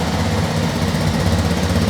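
A Kawasaki KLX 230 RS motorcycle engine idles steadily just after starting, a close, loud, even low rumble with a deep bassy throb throughout.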